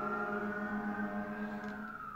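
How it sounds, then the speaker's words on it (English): A wailing emergency vehicle siren holds a steady tone with a slow, gentle drift in pitch, sounding at a moderate distance throughout and unaccompanied by talk. "I don't know if y'all can hear that sirens passing or whatever."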